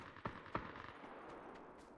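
Two sharp gunshots crack in quick succession early on, then fainter distant reports follow over quiet background noise, all from gunfire in the battle royale video game PUBG.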